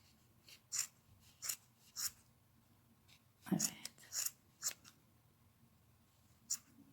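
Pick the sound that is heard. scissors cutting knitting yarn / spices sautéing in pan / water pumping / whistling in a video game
scissors cutting knitting yarn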